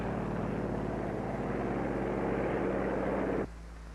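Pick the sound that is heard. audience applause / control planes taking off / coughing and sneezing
control planes taking off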